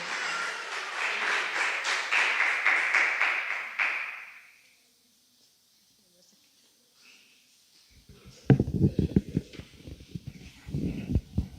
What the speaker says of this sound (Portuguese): Dê uma linda salva de palmas ao Senhor Jesus